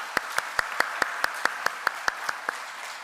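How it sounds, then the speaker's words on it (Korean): Church congregation clapping for the youth praise team at a joint middle, high school and young adult dedication service: a dozen sharp, evenly spaced claps in a steady slow rhythm, fairly close, with no voices. "우리 크게 한번 박수로 격려하겠습니다"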